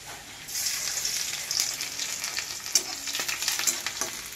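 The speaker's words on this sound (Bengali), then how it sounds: "তেল গরম হয়ে গেছে, একটা শুকনা লঙ্কা আর কিছু গিলা রসুন" Dry chilli and garlic fry in hot oil with a loud, continuous sizzle. Stirring clatters and sharp pops break through now and then.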